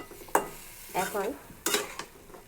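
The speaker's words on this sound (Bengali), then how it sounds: "এটাকে আমি হালকা কষে নেব।" Spices with ground black pepper sautéing in a hot pan, heard as a few distinct stirring strokes and scrapes of a utensil over a soft, low sizzle.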